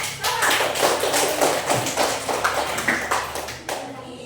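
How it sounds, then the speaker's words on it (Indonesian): Students in a classroom clapping for classmates, a run of fairly quick, even hand claps from a small group, close and moderately loud, with some voices mixed in. "Ayo beri tepuk tangan untuk Pari dengan Sawal."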